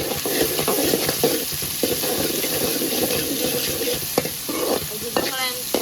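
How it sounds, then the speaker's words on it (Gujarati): Onions and tomatoes frying with salt in a pan, stirred with a spoon: a steady close sizzle under repeated scraping strokes, loud and continuous, with no talk. "નિમક નાખી દીધું છે અને આપણે હલાવવાનું છે."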